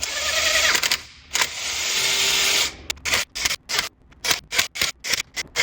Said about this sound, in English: I'm going to use a low power electric driver to do this